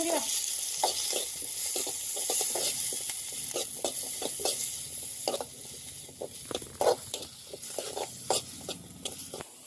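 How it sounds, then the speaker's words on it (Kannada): Coconut, curry leaves, garlic and tomato frying together in a pan in a village kitchen, a steady close sizzle with stirring scrapes and crackles, no talk. "ಕೊಬ್ಬರಿ ಆಮೇಲೆ ಕರಿಬೇವು ಹಂಗೆ ಅದ್ರ ಜೊತೆ ಬೆಳ್ಳುಳ್ಳಿ ಟೊಮೆಟೊ ಎಲ್ಲ ಕೂಡಿ ಹುರ್ಕೊಂಡ್ಬಿಡ್ತಾರೆ"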